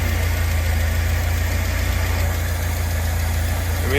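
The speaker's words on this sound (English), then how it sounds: "I mean, it's running pretty good now, idling on its own." A 1979 4x4 Ford Courier engine idles steadily on its own after ignition timing adjustment, a loud, close, even low rumble with a slight knocking vibration and no voices.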